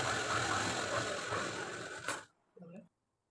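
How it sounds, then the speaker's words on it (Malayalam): A sewing machine stitching a pocket on uniform shorts makes a fast mechanical whir and rattle that runs steadily for about two seconds. It then stops abruptly, followed by a brief faint voice. "മുകൾ ഭാഗവും അതുപോലെ തന്നെ വെച്ചിട്ട് ഒരു ചെറിയ സ്റ്റിച്ച് കൊടുക്കാം."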